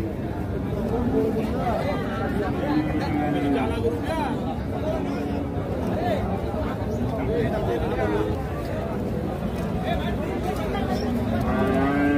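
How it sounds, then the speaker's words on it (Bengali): Cattle moo repeatedly at a crowded livestock market where bulls are traded for Qurbani, their calls rising over steady crowd chatter and bargaining voices. "এই শুকনা গরুটা দেখছেন"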